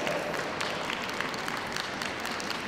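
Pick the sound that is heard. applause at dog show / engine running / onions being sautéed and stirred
applause at dog show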